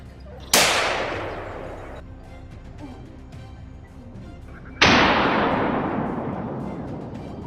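Two loud gunshots fired at a wild boar crack about four seconds apart, each followed by a long echoing boom that fades across open country.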